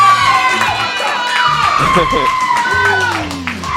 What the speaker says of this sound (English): And the crowd goes absolutely apeshit.